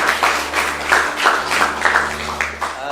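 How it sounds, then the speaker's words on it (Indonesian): A group in a school classroom claps for students, several short bursts of rhythmic hand clapping close by, rising and falling over about three seconds. "kita tepuk tangan semua untuk kalian semua."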